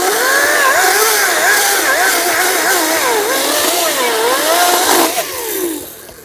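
A Ryobi 40-volt brushless cordless chainsaw cuts through a piece of wood, its motor whining loudly and shifting in pitch under load for several seconds before easing off near the end.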